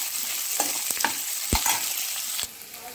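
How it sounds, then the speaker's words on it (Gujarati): Onions fry in a pan with a steady close sizzle, punctuated by a few sharp scrapes and taps of stirring, before the sizzle drops quieter at the end. "થોડી ડુંગળીને આપણે શેકાવા દઈશું મરૂન કલરની થાય ત્યાં સુધી"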